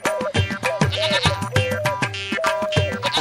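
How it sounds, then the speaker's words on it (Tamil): A lamb bleats in a Tamil film scene, a series of loud, close, quavering cries repeating in quick succession over about three seconds. "ஐயோ என் ஆட்டுக்குட்டி."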